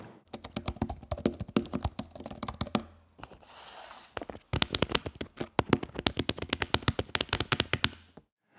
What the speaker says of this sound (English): The keys are scissor switches with a really solid feel, good travel, and a pretty decent thunk.